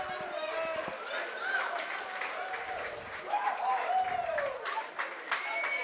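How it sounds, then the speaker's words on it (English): Football crowd at full time at the Millennium Stadium after Wakefield AFC beat Oughtibridge, with scattered clapping and cheering from a distance, steady and moderate in level. "Crowd enjoying it, none of them are leaving, all staying to enjoy."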